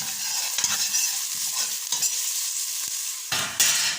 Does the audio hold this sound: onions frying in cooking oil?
yes